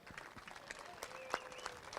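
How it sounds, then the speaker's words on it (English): A brief spatter of clapping from people at Kokomo Speedway during a USAC sprint car event, fairly light and uneven, with a faint tone running through it. "a round of applause certainly warranted for Tony Elliott"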